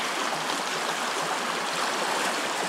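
The Sapio River rushes steadily along a trail near a small bridge, its clean water giving a continuous, fairly loud broadband wash with no pauses or voices throughout.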